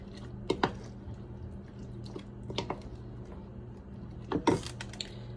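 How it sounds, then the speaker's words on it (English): Cashew milk yogurt being stirred in a bowl for homemade tzatziki, giving a few soft wet clinks and squishy taps at a steady, unhurried pace over a low background hum, close by with no talk. "I'm going to stir."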